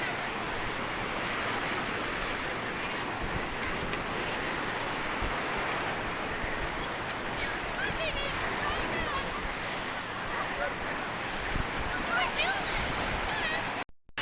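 Small waves wash onto the beach at Port Stanley, Ontario, as a steady, close hiss of surf with a faint wind rush and no distinct breaks.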